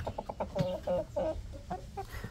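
Rhode Island Red hens that have begun laying eggs cluck in a quick, uneven series of short calls, close by with light background noise.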